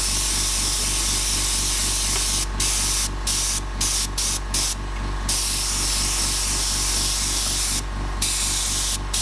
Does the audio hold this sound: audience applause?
no